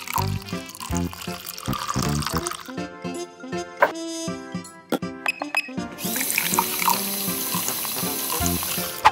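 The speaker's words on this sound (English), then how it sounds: "Add water." Water runs and splashes as it is poured into a LEGO juice machine, a steady liquid stream with some clinking and clattering over backing music.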